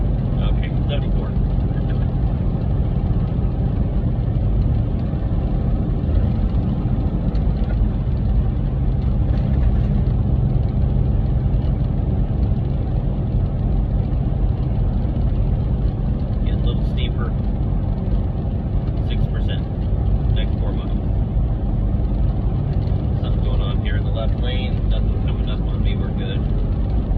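Semi truck engine cruising at about 1750 RPM in 11th gear down a mountain on I-17 South: a steady, loud low drone with road rumble throughout, no notable changes.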